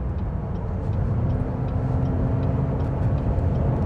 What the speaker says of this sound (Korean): 밟아보면 와우, 정말 가속이 잘 돼요